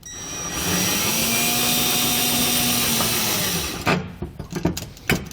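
A power tool runs steadily for about four seconds driving bolts into horizontal E track with nylon lock nuts, then cuts off into brief clattering handling noises.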